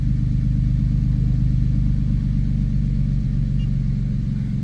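A Nissan Xterra with a camshaft position sensor fault idles after its fault code is cleared, a steady low engine rumble close by that holds an even drone and sags slightly toward the end as the revs drop.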